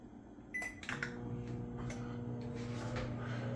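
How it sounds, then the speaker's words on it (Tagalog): A newly installed microwave oven being paused while heating water gives a couple of clicks and beeps, followed by a steady low mechanical hum that carries on alone. "the microwave oven, after pausing the 1 minute time for the timer"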